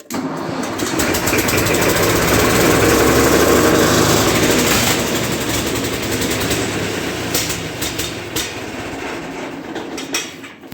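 A Fordson Major E27N tractor engine cranks and catches, roaring up loud and close into a rough, steady running rumble that slowly eases back toward an uneven idle.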